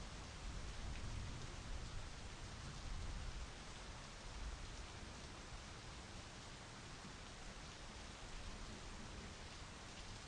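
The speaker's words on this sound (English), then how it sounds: "I just love the sound of rain and like just like a very gentle thunder" Steady rain in the driving game My Summer Car, a continuous broadband hiss of falling drops with a soft low rumble underneath, constant and even with no speech.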